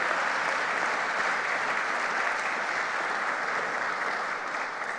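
A large audience at a centennial homecoming convocation applauds in a sustained, even roar of clapping that fills the hall at steady loudness and eases slightly near the end.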